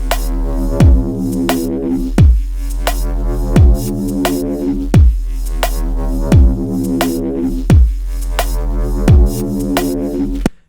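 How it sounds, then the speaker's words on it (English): A long held synth bass line sustains under a halftime drum and bass loop. Punchy kicks and snares land at a slow, even pulse about every 1.4 seconds, loud and close, with no talk. "I've got this bass line that I made recently, and it's a sort of long held down bass line."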